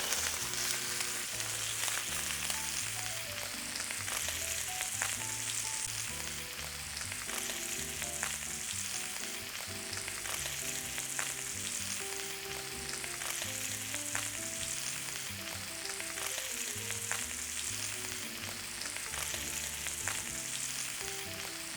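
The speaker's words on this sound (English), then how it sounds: "Once they start to get brown and crispy, you want to get ready to start basting your lamb chops." Lamb chops frying in a pan, browning and crisping, a continuous moderate sizzle with irregular crackles and small pops throughout, with no talking.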